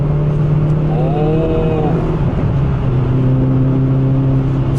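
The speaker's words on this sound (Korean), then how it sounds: "이 상태에서 킥다운을 해보면 이 치고 나가는 맛이 대단합니다." Hyundai Veloster N with the performance package, kicked down in third gear with the M button pressed: the engine revs climb in a loud, rising drone heard from the cabin, backed by road and wind noise.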